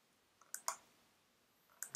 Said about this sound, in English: And then we have to click here to insert it.